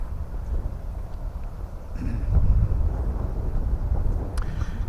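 Wind buffets the microphone in low, uneven gusts outdoors under a clear sky at the 45th Infantry Division Museum in Oklahoma City, rumbling harder midway through, with no voices heard.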